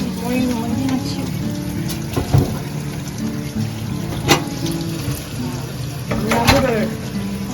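Eumnamu branches rinsed under running water from a tap, a steady close splashing stream with a few sharper knocks and clatters as the branches are handled.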